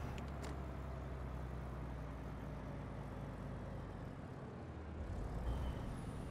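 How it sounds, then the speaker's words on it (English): A truck engine in Euro Truck Simulator 2 drones at full throttle, a steady, dense roar that holds constant throughout with no breaks or other sounds. "And this is full throttle right now."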